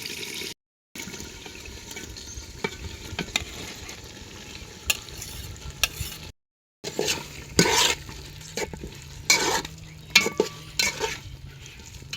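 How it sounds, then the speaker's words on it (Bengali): Beef tripe is stir-fried in spice masala in a pan, with moist sizzling under intermittent scraping strokes of a spatula and clattering knocks against the pan, spaced irregularly, with two brief silent gaps. "গরুর ভুড়িটা ভালো করে কষাই লেছি"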